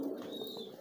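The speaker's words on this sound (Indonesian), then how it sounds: "Nah, merpati yang masih piikan seperti ini, teman-teman." A three-day-old pigeon squab makes soft, continuous cooing calls, close by and quiet, with no other sounds.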